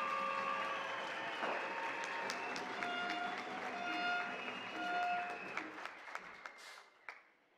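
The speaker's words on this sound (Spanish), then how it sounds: "Fuerte el aplauso para los 12 participantes." A crowd at a regional oratory contest final in Los Santos, Panama applauds the twelve participants. The steady clapping runs alongside a sustained melodic tone, then thins out and fades near the end.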